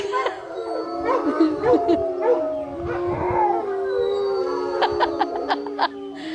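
Wolves at the Southern Ohio Wolf Sanctuary howl in several long, overlapping, wavering calls that carry through the whole stretch, with people talking over them.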